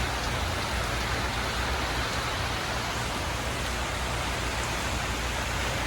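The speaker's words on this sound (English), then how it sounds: "I think this rain will last for more minutes." Heavy rain pours steadily onto roofs, a dense, unbroken hiss of falling water that stays loud and even throughout with no voices.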